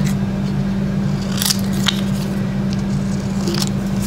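Scissors make a few crisp snips while trimming vellum paper for a slide mount craft project, close and distinct over a steady low hum.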